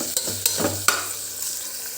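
A finely chopped medium tomato and four or five green chillies soften in a pan. A soft continuous sizzle runs throughout, with a few quick scraping stirs near the start.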